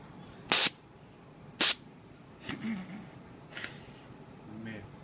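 Two short, loud hissing bursts of silly string spraying from a can, sharp and close, followed by quieter rustling and faint indistinct voice sounds.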